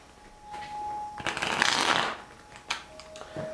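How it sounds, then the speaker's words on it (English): A deck of tarot cards being shuffled in a few quick riffling bursts, close and crisp, with brief pauses between handfuls. "So I'm going to shuffle your cards."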